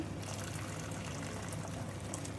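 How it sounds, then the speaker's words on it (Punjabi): Hot water boiled in a kettle is poured into a pan of matar paneer curry to thin it, a steady close splashing pour with no talk. "ਮੇਰੇ ਕੋਲ ਹੈਗਾ ਕੈਟਲ ਦਾ ਬੋਇਲ ਪਾਣੀ"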